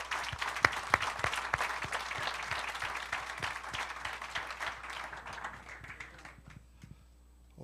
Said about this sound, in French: on peut donner une main d'applaudissement à notre invité